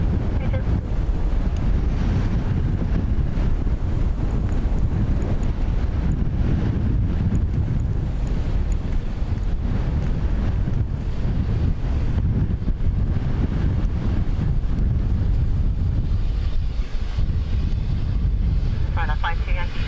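Strong wind buffets the microphone at Dublin Airport, a constant loud roaring rumble with gusty surges and no clear breaks, with a voice heard faintly underneath.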